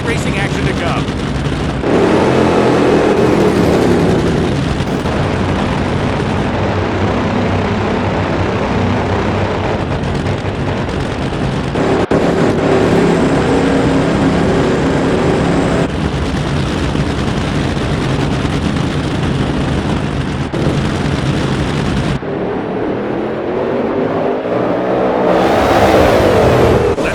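Drag racing cars in the NHRA Speed for All video game at the NHRA Mile-High Nationals, a loud continuous engine roar that swells and holds, then drops away briefly before surging again near the end, with a voice talking over it.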